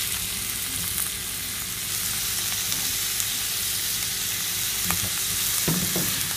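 Razor clams stir-fried in red curry paste sizzle and crackle steadily in a hot pan, with occasional louder scraping stirs of the spatula near the end, close and continuous.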